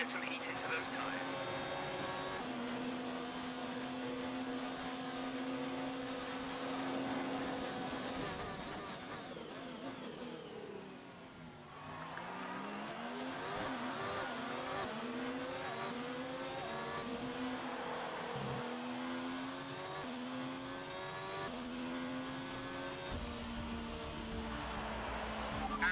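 A Ferrari Formula 1 car engine in F1 2019 screams steadily at high revs, dips briefly as it shifts and drops pitch, then climbs again under acceleration, loud and sustained, with a voice talking over it.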